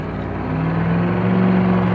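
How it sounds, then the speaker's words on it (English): An old Stanley Steamer car driven hard, a loud close steady drone with a rising tone as it accelerates, no voices. "he's driving this car basically for all it's worth."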